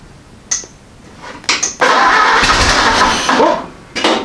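A Ford AA Doodlebug engine gives two short cranking bursts, then catches and roars loudly for under two seconds before fading, followed by another brief surge, all close up.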